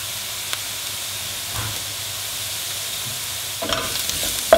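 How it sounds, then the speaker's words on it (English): Steady close sizzle of vegetables sauteing in a pan with garlic, rosemary and chili, with a few clinks of stirring and a louder burst near the end. "These have been sauteing for 3 minutes on a medium-high heat, so I'm just going to reduce that down to low."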